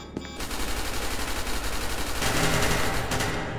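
Sustained automatic gunfire from SCP: Secret Laboratory, a dense rattling stream of shots that starts abruptly and grows louder, with no talk.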